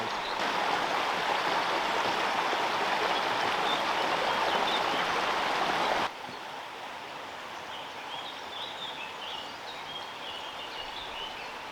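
River Severn near Hafren Forest, swollen after heavy rain, hail and snow: a steady broadband rush of flowing water, loud at first and then dropping to a softer level partway through, with faint bird calls above it and no talk.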